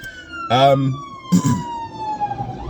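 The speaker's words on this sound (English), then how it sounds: "Fire engine coming through." A siren wails steadily in the distance, its pitch slowly falling as it passes, with two short bursts of voice over it.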